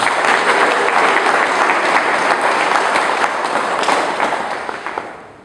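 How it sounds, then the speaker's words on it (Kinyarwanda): A church congregation breaks into loud, dense applause that carries on steadily for several seconds, then fades out toward the end. "Dukomere Imana yacu amashyi menshi."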